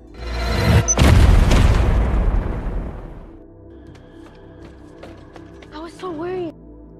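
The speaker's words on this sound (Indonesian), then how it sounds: "Jess dapat menancapkan bom ke tubuh Samsul lalu melakukan hal ini" A bomb explodes in an action film, a loud heavy boom with a long rumbling decay, followed by quieter mechanical clicks and a few faint tonal sounds.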